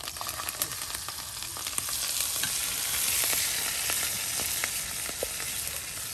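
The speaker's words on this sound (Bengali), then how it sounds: "সরিষার তেল দিয়ে এখন মাখা মাখা করে নেওয়া হচ্ছে যেন ভর্তাটা আরো স্বাদ এবং ঘ্রাণ চলে আসে।" Mashed roasted eggplant bhorta being worked together with mustard oil in a village kitchen, a steady wet sizzling, squelching texture with scattered soft clicks and taps, close and continuous with no voices.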